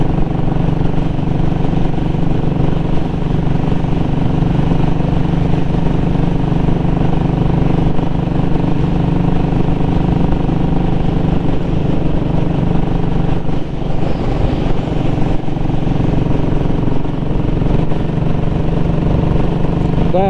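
A Royal Enfield Classic 500 motorcycle is ridden on a cold day, its engine thumping in a steady, loud, continuous drone mixed with wind rush throughout.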